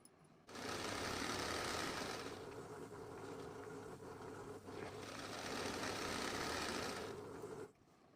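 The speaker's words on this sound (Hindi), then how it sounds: "इस तरीके से मैं इसमें सिलाई लगा रही हूँ यहाँ पर" A sewing machine stitching a kurti runs in one continuous, fairly quiet whirring burst of about seven seconds, starting and stopping abruptly, with no talking.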